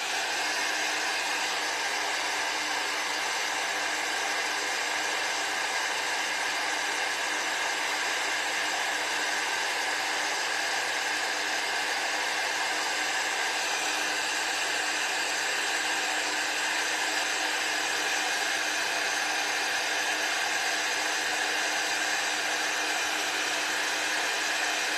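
A heat tool melting embossing powder on a wedding card gives a steady, even blowing whir that runs unbroken from start to finish with no talk.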